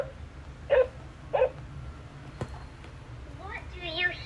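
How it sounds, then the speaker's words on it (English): A dog gives two short, sharp barks in quick succession, fairly close, followed by a brief quiet stretch before a voice starts speaking. "dog."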